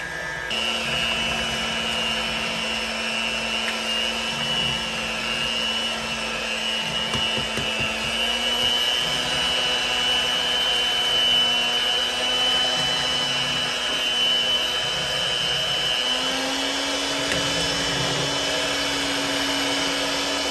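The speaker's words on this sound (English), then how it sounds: "So we'll go ahead and get the mixer started, and I'll crack the eggs in for you." Electric mixer whirring steadily for a long stretch while eggs go into flourless keto chocolate cake batter, a close, constant motor drone that shifts pitch slightly partway through.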